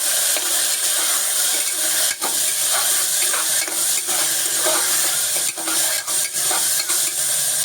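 Lima beans sauté in a hot pan until browned and fragrant, with a constant close sizzle and hiss, broken by occasional stirring scrapes.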